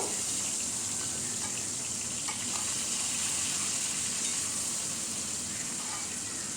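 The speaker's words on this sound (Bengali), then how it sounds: "খুব সাবধানে মাছগুলো ভাজতে হবে" Small tengra fish sizzle in hot oil in a pan over a low gas flame, a steady, even frying hiss that runs unbroken throughout with no one talking.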